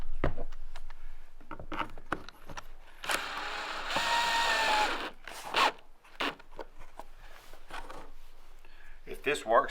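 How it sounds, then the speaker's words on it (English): Screws are driven into a 40-gallon tractor sprayer tank to hold a replacement pump. A close, raspy ratcheting whir comes in short bursts, with a longer steady stretch in the middle and some voice around it. "And then we'll put our screws in to hold it to the tank itself."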